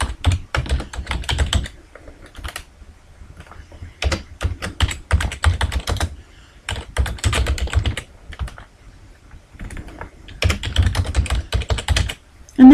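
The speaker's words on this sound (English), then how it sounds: "And I might even type some text" Keys clatter on a computer keyboard in steady bursts of typing with short pauses between runs, close and fairly loud, with no talking.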